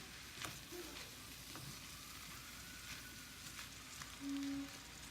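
Chicken fried rice sizzles softly in a hot pan as it is stirred, a faint steady frying hiss with occasional light scraping and a brief tonal beep near the end.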